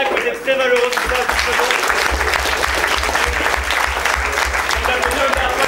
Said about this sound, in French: Je demande d'applaudir une dernière fois tous les candidats qui ont été très valeureux ce soir.